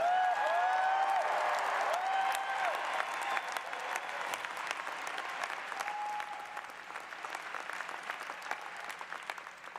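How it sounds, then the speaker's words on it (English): Sustained applause from a large crowd at a college commencement ceremony, dense clapping that stays steady and gradually thins slightly toward the end, with faint tonal notes early on. "give yourselves a round of applause for a job well done"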